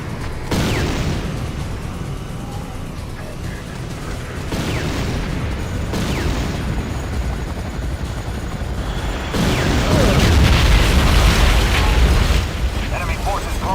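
Airstrike in Command & Conquer: Renegade: a long run of loud, rumbling explosions and mechanical clatter with heavier booms toward the end, under in-game voice lines.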